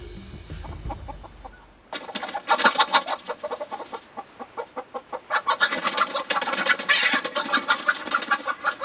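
Chickens cluck repeatedly in a wild winter mountain setting, a rapid run of close, fairly loud calls after a quieter opening, with no talk.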